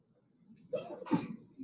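A single sharp sneeze bursts out during a math lesson, after a soft lead-in breath, close and fairly loud, with a brief murmur of voice at the end.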